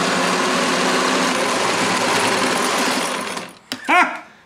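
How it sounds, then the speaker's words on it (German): A sewing machine runs steadily and loud, stitching a seam on an Ikea bag, then stops near the end as a voice briefly exclaims. "Bevor ich das jetzt hier zumache, nähe ich eben hier jetzt schon mal das Teil in der Mitte fest."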